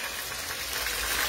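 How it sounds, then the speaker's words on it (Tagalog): Hot cooking oil splatters and sizzles steadily while banana turon fries, a dense, loud crackling hiss with no pauses and no speech. "Tingnan nyo yung tilamsik ng mantika."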